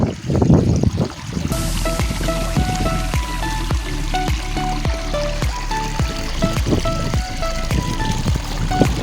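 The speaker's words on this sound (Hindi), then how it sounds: "देखा संगवारी हो पानी कैसे भागा, छोटे से झरना टाइप" Water running over a small dam and spilling like a little waterfall near a pond, a loud close steady rush with dripping, splashing detail throughout.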